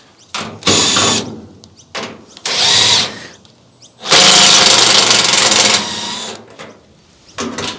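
Power drill with a quarter-inch hex bit driving screws, several bursts of whirring at close range, each a second or two long, with one longer run in the middle and short quiet gaps between.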